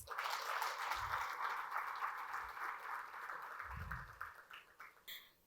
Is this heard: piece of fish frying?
no